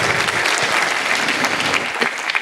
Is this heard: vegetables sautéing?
no